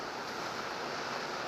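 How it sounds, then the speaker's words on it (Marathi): Heavy monsoon rain pours down at Govardhan, heard from under a shop shed as a dense, steady roaring wash of noise with no breaks, close and moderately quiet throughout. "आता अचानक मोठा पाऊस सुरू झालाय"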